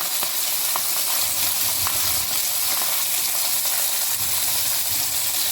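Fish fillets sizzle steadily in a hot pan, a dense continuous crackle and hiss with small pops, close and loud with no talking.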